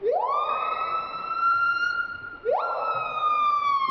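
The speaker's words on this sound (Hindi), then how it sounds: "नंबर 1 पीहा। इसकी आवाज को स्लो मोशन में करने पर ऐसा लगेगा जैसे कोई एम्बुलेंस या पुलिस की गाड़ी हो।" A piha bird call, slowed down so it resembles a siren, sweeps upward twice in long, loud rising wails, the second starting partway through, clear and alone.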